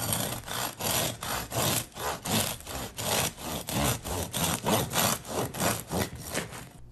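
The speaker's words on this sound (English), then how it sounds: "I'm ready to go in with my bread knife." A bread knife saws through a freshly baked crusty honey and cheese loaf, with steady back-and-forth strokes repeating about twice a second, close and fairly loud, with no talking.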